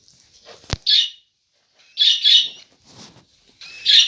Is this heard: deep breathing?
no